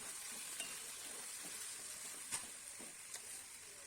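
A spatula stirs spring onion greens cooked with toor dal in a pan, giving a faint, steady sizzle of frying with a few soft scraping clicks, close and quiet, no talk.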